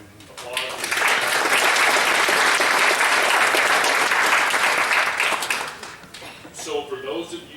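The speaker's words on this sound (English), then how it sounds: "Let's give all of them another round of applause." Audience applause at an annual membership meeting after candidate presentations, a full burst of clapping that rises quickly, holds steady for several seconds, then fades as a voice returns.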